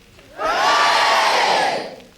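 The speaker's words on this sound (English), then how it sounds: "I'm just going to ask the children once more to say one rousing cheer to our professors" Children in a lecture-theatre audience let out one big rousing cheer, a loud crowd roar that swells quickly, holds for well over a second, then fades, with no talking over it.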